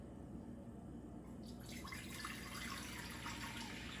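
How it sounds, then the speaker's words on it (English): Running water pours steadily into a pot for cooking polenta, a continuous splashing rush that starts partway through and stays loud against a low background rumble. "We're gonna add about 4 cups of water."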